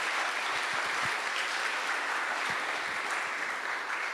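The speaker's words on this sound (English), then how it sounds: "I would just love to have a good round of applause for these terrific people." A church congregation applauds a group of people during a Sunday service, with a steady wash of clapping heard alone and a few low thumps early on.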